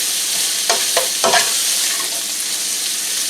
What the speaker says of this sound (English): we are going to brown this sausage up really good